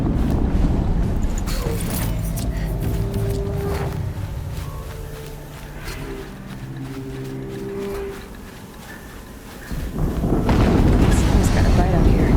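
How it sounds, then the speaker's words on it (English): Heavy rumbling blasts from an explosion in Horizon Zero Dawn, Maker's End, fill the clip with loud, dense low roar that eases midway and then surges again near the end, while a voice briefly speaks. "Another explosion."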